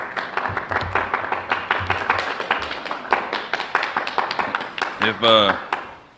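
Scattered clapping from an audience at a county public forum, a loose stream of individual claps of uneven rhythm, with a voice briefly breaking in near the end.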